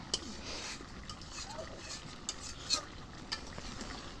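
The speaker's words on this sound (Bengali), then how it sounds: "মাছটা একটু নাড়া দিই।" Fish curry is stirred in a pan after braising, with a soft sizzle underneath and a few scraping clinks of a spatula against the metal, quiet and close.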